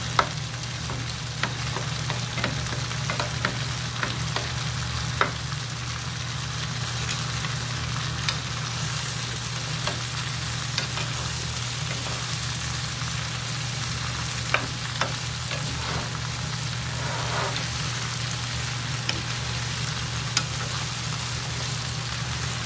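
Chipotle shrimp sizzle and fry steadily in a pan, with frequent scraping stir strokes of a utensil, continuous and close throughout.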